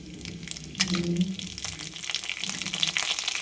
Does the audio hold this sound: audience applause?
no